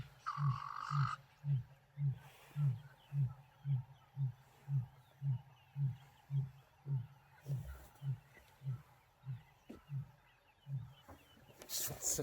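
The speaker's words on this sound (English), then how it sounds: "He carries on and on at the end of his roar, far longer than any other lion I've heard" A male lion in the wild roars, then keeps going with a long, steady train of deep grunting pulses that slowly fade. It is heard from a moderate distance, with faint ambient noise and no talking.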